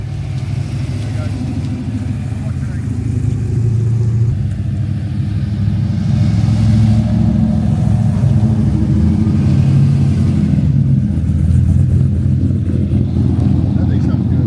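A hot rod engine, either a Mustang or an S10, fires up and revs across a campsite at Hot Rod Drag Week. It makes a loud, deep, steady rumble that swells after a few seconds and holds, with voices faintly underneath.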